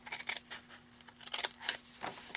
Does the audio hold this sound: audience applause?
no